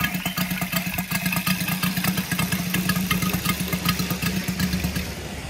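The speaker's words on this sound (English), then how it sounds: "engine starts lovely and very easily as well" A Saito FG-73 R5 model aircraft engine swinging a 20 x 10 four-blade Biela prop runs steadily up close, a loud, even, rapidly pulsing drone throughout.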